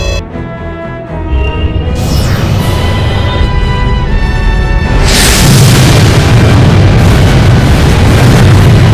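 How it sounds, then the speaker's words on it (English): In the video game Star Ocean: Till the End of Time, an energy shot whooshes in with a descending sweep and then bursts into a heavy, roaring explosion that sustains loudly to the end, mixed with game music and no talk. "We probably would have been hit if that first shot had come from a phase cannon."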